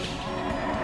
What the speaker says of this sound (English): It's definitely mooing at us.